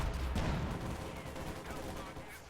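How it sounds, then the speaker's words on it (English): PPSh submachine guns from conscripts and shock troops fire in a Company of Heroes 2 battle, a dense, distant-sounding rattle of overlapping automatic bursts with no clear pauses. "I'm going to be hearing a lot of PPSH chattering between all of the conscript PPSHs and the shock troops"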